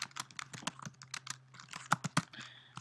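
Rapid keystrokes on a computer keyboard while entering a yum install command on a Linux 6.5 system, a close, irregular run of clicks with a few heavier key presses near the end and no voices.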